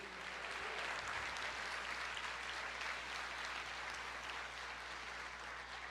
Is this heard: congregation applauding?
yes